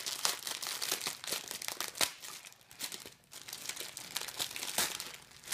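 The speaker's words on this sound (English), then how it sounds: "You want to open up your shreddable paper," Shreddable paper crumpled and torn by hand while filling a parrot foraging toy, a dense, continuous crinkling with sharper crackles, close and fairly loud, no voices.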